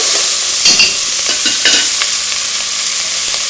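Madeira and brandy poured into a hot pan while cooking poached rabbit saddle, a loud continuous sizzle with a few bursts of spattering and stirring, no voices.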